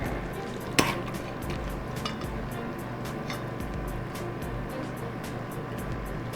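Greens being stirred into a frying pan for smothered pork chops, with a steady low sizzle under soft repeated scraping and a single sharp clink near the start, no talking.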